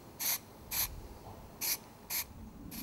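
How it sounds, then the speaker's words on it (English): Four or five short bursts of black spray paint hiss from an aerosol can in quick succession, separated by brief pauses, close and fairly quiet. "I just dull it down with some black cast spray."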